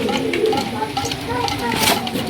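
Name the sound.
Kaldom pigeons cooing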